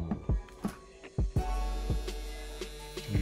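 A Kiepe Diavel magnetic motor runs, giving a low steady hum under a series of sharp clicks and knocks from the machine being handled.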